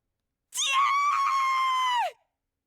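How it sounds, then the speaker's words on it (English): A single long, piercing scream from a character in the video game The Hundred Line Last Defense Academy, sustained and loud for about one and a half seconds before cutting off abruptly. "That was Moko's scream."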